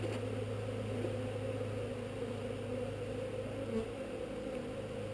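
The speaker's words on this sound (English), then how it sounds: "So, I'm going to try to dump these bees here." Honey bees buzz steadily during a backyard honey harvest, a dense, even droning hum that stays constant throughout with no voices.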